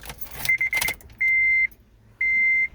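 In a 2008 Honda Civic Si, keys jangle briefly, then two long steady electronic chimes sound as the ignition comes on. The engine stays quiet and nobody talks.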